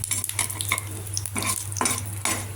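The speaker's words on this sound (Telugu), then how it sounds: "ఆయిల్ వేడెక్కాక 1 స్పూన్ మినపప్పు, స్పూన్ జీలకర్ర, కొద్దిగా ఆవాలు, ఒక మిరపకాయల ముక్కలు చేసి వేసుకోవాలి." Urad dal, cumin, mustard seeds and chili pieces are stirred in hot oil, with quick metal-on-pan scrapes and clinks over a light sizzle, close up and continuous.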